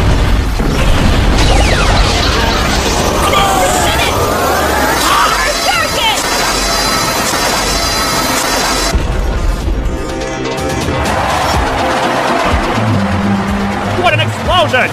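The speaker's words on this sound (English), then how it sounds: "What an explosion!" A loud explosion from a Pokemon battle between Ash's Greninja and Charizard, booming and crashing amid a dense, continuous mix of battle effects and music, with voices speaking over it.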